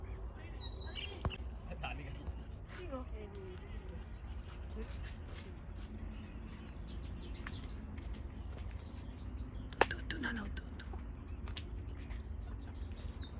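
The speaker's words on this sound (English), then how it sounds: "Bird sounds చాలా ప్లెజెంట్గా ఉన్నాయి." Birds chirp and call intermittently outdoors, with short, bright tweets scattered over a steady ambient background while a person talks through much of it.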